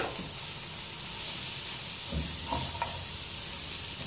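Shredded cabbage frying in a pan for vegetable masala rice, a steady close sizzle with a couple of faint stirring scrapes partway through and no talking.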